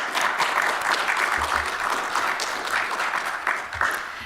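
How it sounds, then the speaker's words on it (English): Sustained audience applause for panelists at a university anniversary panel, a full room clapping steadily with a few low thumps underneath. "let's give a big round of applause for today's panelists"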